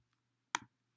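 A single sharp mouse click while editing in Google Docs, one brief close tick against near silence.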